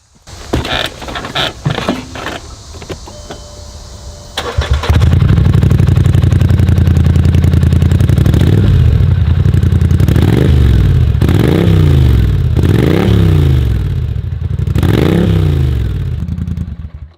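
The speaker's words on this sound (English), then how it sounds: "We're gonna go ahead and turn the ATV on, rev up the engine" An ATV fitted with an HMF Swamp Series exhaust cranks with starter clatter, catches and idles loudly, then gets blipped through several rising and falling revs close to the recorder.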